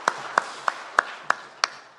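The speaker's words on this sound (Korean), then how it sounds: "우리 낭독하실 두 분께 박수로 감사하겠습니다." A church congregation at a Friday New Year prayer meeting applauds in slow unison, six sharp, evenly spaced claps ringing out in a reverberant hall.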